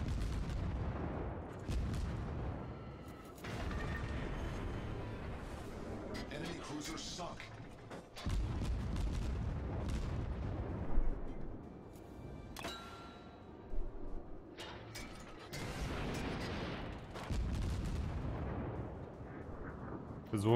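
Cruiser St. Louis firing its guns in the World of Warships naval game, repeated loud booming salvos and blasts with mechanical clatter, spread across a long stretch with intermittent speech.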